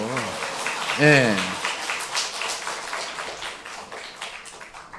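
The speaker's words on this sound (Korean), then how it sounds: "박수 치려면 좀 세게 좀 쳐요." Congregation at a Sabbath worship service clapping, a ragged spatter of hand claps continuing behind a short spoken response and background voices, slowly thinning out.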